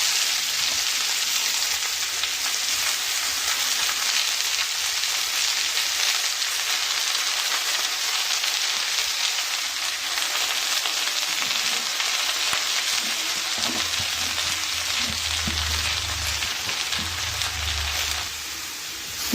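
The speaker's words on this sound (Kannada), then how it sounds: "ಇವಾಗ ಇದು ಸೊಪ್ಪು ಹಾಕೋಣ. ಈ ಮಸಾಲೆ ಮಿಕ್ಸ್ ಮಾಡಿರೋಂಥ ಸೊಪ್ಪಿಗೆ" Greens frying with a spice mix in a pan make a dense, steady sizzle that hisses on for the whole stretch, with faint low stirring knocks near the end.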